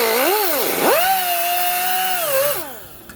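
A grinding wheel cuts into a steering stem bearing on a motocross dirt bike, a loud, steady high-pitched whine that dips as the load shifts, then drops away near the end.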